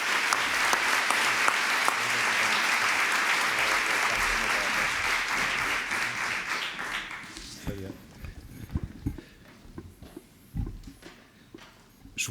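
Audience applause at the opening of a parents' conference fills the first seven seconds with steady, dense clapping, then thins to scattered claps and a few louder knocks as the room quiets.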